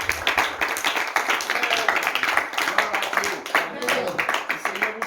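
A church congregation claps together in acclamation of the Lord, a fast, steady patter of many hands that is fairly close and fills the space, with voices mixed in.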